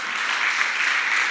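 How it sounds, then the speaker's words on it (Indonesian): A church congregation at a youth service claps, a brief, even wash of applause heard alone at moderate volume. "tepuk tangan dulu buat Ata"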